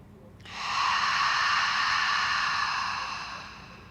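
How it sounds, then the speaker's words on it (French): A long, deep breath pushed out through a wide-open mouth during a vinyasa yoga session, a loud, steady airy rush lasting about three seconds before tapering off. "On ouvre grand la bouche, on expire, on vide, on souffle."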